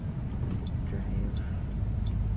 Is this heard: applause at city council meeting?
no